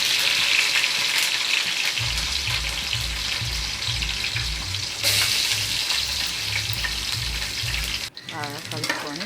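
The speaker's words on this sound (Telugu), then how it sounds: "నూనె వేడి చేసి ఆవాలు, జీలకర్ర, ఎర్రగడ్డలు వేసి బాగా" Onions, mustard seeds and cumin fry in hot oil with a steady, loud sizzle and crackle, stirred in a pan; a faint clink and a brief lull come near the end.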